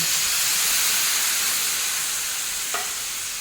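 Water hits a hot pan of fried spices for a chicken and chana dal curry, setting off a loud, steady hiss of sizzling steam that fades only slightly. No one speaks.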